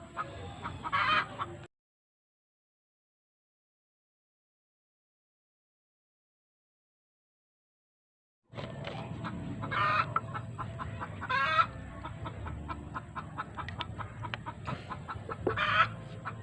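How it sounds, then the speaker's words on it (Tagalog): Quarantined Rhode Island Red chickens in a backyard flock cluck repeatedly at moderate distance, with a long silent gap partway through before the clucking resumes. "ito yung naka-quarantine na Rhode Island Red"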